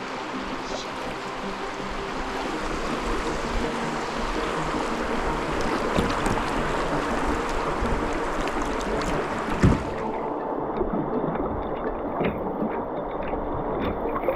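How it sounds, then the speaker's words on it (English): Water rushes loudly and continuously around a kayak moving through shallow white water at low water level on the River Wye near Hereford, England, easing slightly toward the end. "the low water level has actually created a bit of white water here"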